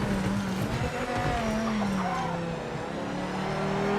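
A race car engine in the Project Motor Racing video game drones with a steady, tonal pitch that rises and falls as the car accelerates and shifts, holding close and continuous the whole time.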